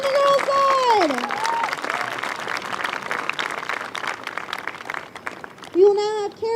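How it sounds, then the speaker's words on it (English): Crowd applause rises for the girls' special award winners at a U16 field hockey national championship ceremony, steady clapping with whistle-like tones and cheering at the start and near the end. "Big round of applause for our special awards on the girls' side."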